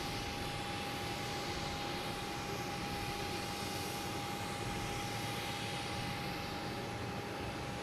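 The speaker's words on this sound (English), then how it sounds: "We got Air Portugal coming in. Coming in from Lisbon," An Air Portugal A321neo airliner arrives from Lisbon at Boston Logan Airport, its jet engines making a steady, moderately distant roar with a faint sustained whine, no pauses.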